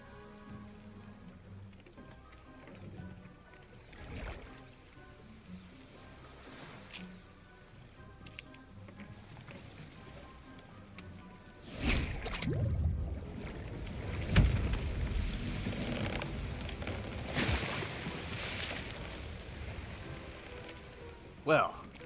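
Paddles splash and slosh in water as a boat is rowed in the video game Outcast, the strokes rising in bursts during the second half, with speech and game sounds around them.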